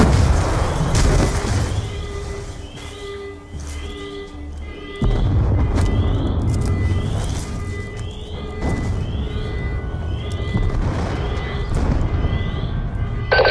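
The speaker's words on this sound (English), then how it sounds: "We're monitoring multiple explosions across the facility." Explosions across a facility in the video game Call of Duty: Black Ops 2. Several deep booms and bursts go off at intervals over a continuous low rumble of game sound.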